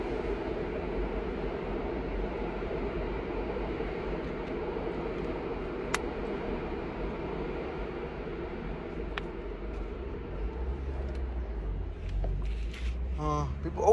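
A train passes at a distance, a steady low rumble and hiss that holds for the whole stretch and grows slightly heavier toward the end, with faint voices nearby.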